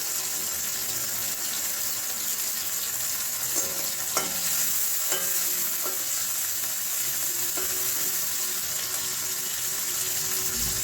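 Onions frying in a pan with curry leaves for a ridge gourd curry, a steady close sizzle and hiss broken by a few scattered spoon clinks and stirring scrapes, no one speaking.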